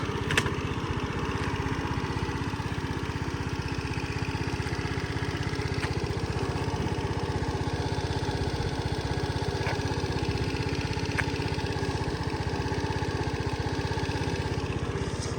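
A Honda Benly AA03 scooter engine idles steadily with a low, even putter, close and continuous, with a few faint clicks and no talking.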